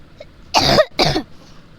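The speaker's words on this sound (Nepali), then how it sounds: "किनकि मलाई खोकी भयो" Two short, harsh coughs in quick succession, close and fairly loud, followed by quiet room tone with no talking.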